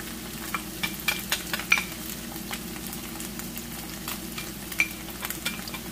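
Ethiopian awaze tibs, meat with awaze paste, frying in a pan while being stirred: a soft steady sizzle broken by repeated scraping clicks of a utensil against the pan, close and fairly quiet.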